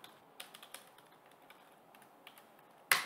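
Quiet typing on a computer keyboard, a handful of light, irregular key taps ending in a louder, sharper clack.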